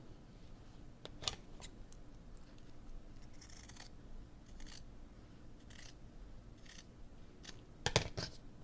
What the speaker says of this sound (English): I am going to curve this a little bit with my scissors